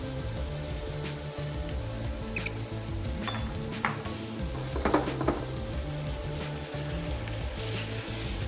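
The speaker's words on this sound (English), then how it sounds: "We're dropping a little bit of rice wine also along the edge of the wok." Rice wine sizzling along the edge of a hot wok while Kung Pao chicken cooks, a steady crackling fry throughout with a few brighter spatters in the middle.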